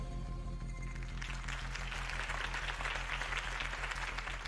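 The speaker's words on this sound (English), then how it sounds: "could have heard that applause" A crowd applauding steadily in Batman: The Telltale Series, dense clapping swelling in after a moment and continuing over a low, droning musical background.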